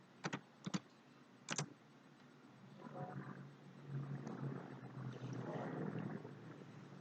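A few sharp, separate clicks sound on a computer keyboard while a command is typed in a Windows command prompt, followed by a low, steady background rumble.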